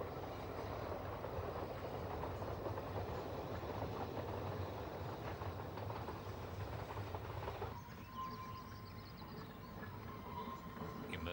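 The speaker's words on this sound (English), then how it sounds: "the train completes its 360-degree turn to run into the small station" A train rumbles steadily along a curving railway line near Blaenau Ffestiniog with a continuous rolling clatter, which eases to a quieter hum near the end as it approaches a small station.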